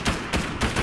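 A quick burst of four sharp gunshots in a fast, uneven rhythm, a Fortnite firefight with no voices.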